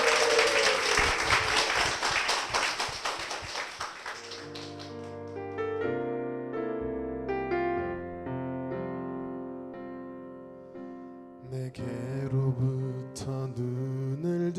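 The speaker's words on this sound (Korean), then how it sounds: "두 분께 다시 한번 힘찬 축복의 박수 부탁드리겠습니다." Congregation applause at a church gathering, a dense wash of clapping for the first few seconds that gives way to sustained piano or keyboard music.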